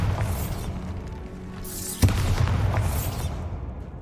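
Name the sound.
Bombarda spell blast in video game Hogwarts Legacy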